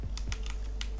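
Quick, close clicks of keys on a computer keyboard as a Minecraft server command is typed, a handful of crisp taps in an uneven rhythm over a low background hum.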